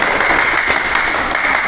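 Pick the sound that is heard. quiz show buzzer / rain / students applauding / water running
students applauding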